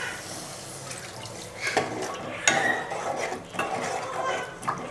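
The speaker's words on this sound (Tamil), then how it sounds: "இப்போ தேவையான அளவு தண்ணி ஊற்றிக்கலாம்." Water splashes and pours into a pot of cooking egg curry amid scattered clinks of a utensil against metal, fairly quiet and close.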